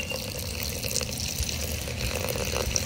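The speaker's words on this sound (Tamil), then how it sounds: "கொஞ்சமா தண்ணி மட்டும் ஊத்திக்கலாண்ணா ரொம்ப வேண்டாம் கொஞ்சமா" A little water pours steadily into a cooking pot while a yellow pumpkin stuffed with paneer gravy is prepared, making a soft continuous splash and trickle with no talk.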